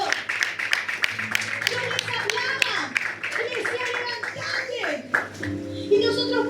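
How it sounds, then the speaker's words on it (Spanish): Church congregation clapping during a Spanish-language sermon, a burst of claps mixed with voices and children's chatter, with talking continuing over it. "¿Y cuántos se animan a dar un fuerte aplauso al Señor?"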